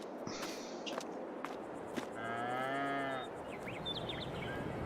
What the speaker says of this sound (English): Moo cows are happy and healthy.